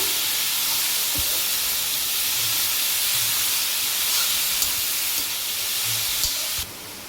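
Red spinach leaves salted and stirred in a hot pan give a steady steamy hiss with faint scraping, continuous and close throughout, easing slightly at the very end.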